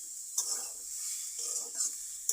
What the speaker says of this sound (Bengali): তাই জন্য দেখো শাক ভাজতে চলে এসেছি